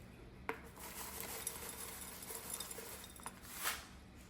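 A spoon scooping Mrs Wages medium salsa spice mix from a glass jar, giving a few faint close clinks and light scrapes of metal against glass.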